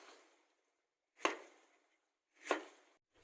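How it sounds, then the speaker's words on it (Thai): Knife strokes thinly slicing lemongrass stalks for a spicy stir-fried flying squirrel dish, two sharp chopping cuts about a second apart, close and crisp with silence between. "หั่นตะไคร้บางๆครับผมนะครับ"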